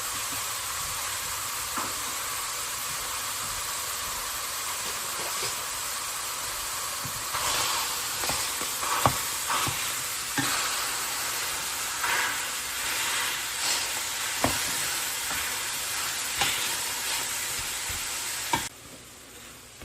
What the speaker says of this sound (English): In the pot, I'm going to add a pound of hamburger and 1 chopped onion, and I'm going to let those cook together.